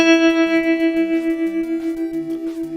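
A bright synthesized note from Mega Man stage music is struck rapidly in a fast tremolo over a sustained tone. It plays alone, with a soft pulsing rhythm throughout.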